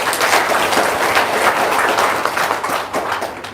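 Audience applause at a talk-show-style gathering, a dense steady wash of many hands clapping at close range, loud and continuous for a few seconds before easing slightly at the end.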